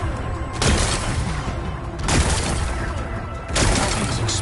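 Rock-blasting explosions in the video game Horizon: three loud, broadband booming bursts, evenly spaced, each decaying into rumbling debris over a continuous noisy background.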